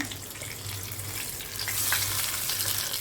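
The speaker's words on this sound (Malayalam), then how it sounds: "നമ്മുടെ മീനൊക്കെ നന്നായിട്ട് ഫ്രൈ ചെയ്ത് വന്നിട്ടുണ്ട്." Masala-coated fish frying in a pan with curry leaves, giving a steady close sizzle and crackle throughout with faint watery bubbling, and no talking.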